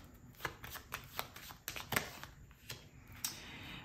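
Tarot cards being shuffled and riffled by hand, a quick series of crisp papery flicks and slaps, close and fairly quiet, with no voice.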